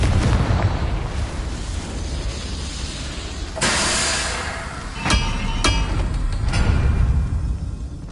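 A Confringo blasting spell bursts in Hogwarts Legacy as one sharp explosive blast followed by a couple of quicker cracking pops over a steady rumbling combat bed.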